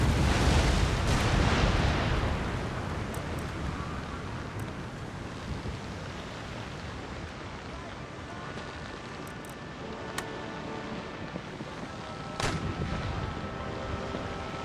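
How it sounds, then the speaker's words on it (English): Naval cannon broadsides rumble in Empire: Total War, a heavy booming roar at the start easing into a dull, distant wash with scattered sharp reports and another burst of firing near the end. "Let's give them a nice broadside."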